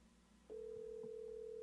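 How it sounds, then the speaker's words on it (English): A telephone ring tone sounds during a morning call-in livestream, arriving as a single steady electronic tone that starts about half a second in and holds evenly to the end, fairly quiet and with no talk over it. "The phone's ringing."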